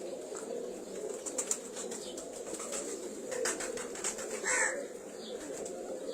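Pigeons at a breeder's loft give bursts of wing flapping with a few soft coos over a steady background hum, fairly close and moderately quiet.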